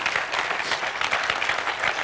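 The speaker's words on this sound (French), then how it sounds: "Je pense qu'on peut réellement applaudir Dominique pour son exposé." Listeners at a talk on the sociological analysis of web algorithms clap for Dominique's presentation, a brief, steady patter of applause.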